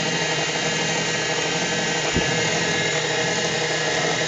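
CNC milling machine cutting with a 6 mm ball nose end mill on a shallow sweep pass, a loud steady whirring machine drone that runs continuously, with one brief low thump partway through and no voices.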